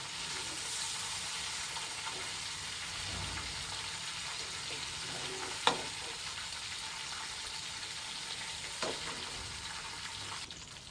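Meat for chicken biryani sizzles and fries in a pot in a village setting, a steady low crackle with a few sharper pops and stirring scrapes, no talk over it.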